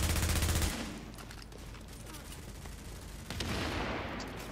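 Gunfire in Tom Clancy's The Division rattles in rapid bursts, loudest at the start and then continuing as a dense, crackling exchange. A heavier burst comes near the end, and combat noise fills the clip throughout.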